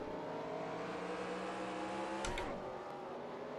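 A stock car engine held at partial throttle in NASCAR Racing 2003 at Richmond, a steady loud droning whine with layered harmonics, a sharp click-like burst near the end, no voices.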